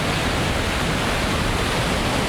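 A waterfall pours down through trees along the Tour du Mont Blanc in the Alps, giving a steady, dense rushing roar that holds even and unbroken throughout, with no voices.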